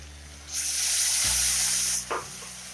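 Water poured into a hot pan of cumin and chilli powder bursts into a loud, close hiss and sizzle that holds for about a second and a half, then cuts off under a low kitchen hum.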